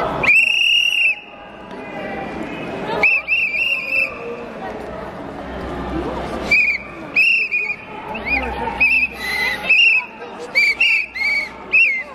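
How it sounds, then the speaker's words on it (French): Whistles blown at a political protest outside, shrill repeated blasts in bursts over crowd noise and people talking nearby, loud and close. "Et 3 sifflets."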